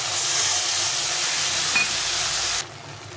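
Spice paste hits hot oil with fried tomatoes in a pan for a cauliflower fish curry, giving a loud, continuous bright sizzling hiss close by that cuts off abruptly near the end, leaving a quieter background.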